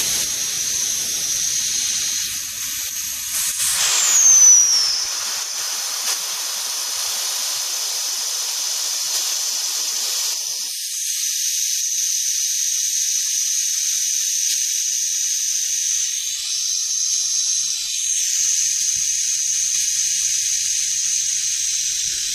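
Compressed air hissing steadily out of a Steyr air rifle regulator cylinder during a service, a loud close continuous hiss with a brief surge early on, otherwise constant for over twenty seconds.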